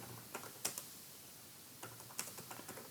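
Quiet, sparse keystrokes on a computer keyboard, a few irregular taps and a short burst, close and faint with no voices.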